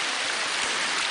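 Steady, dense rain hisses loudly and evenly throughout, with no voices, on Mt. Insubong in Korea during rock climbing.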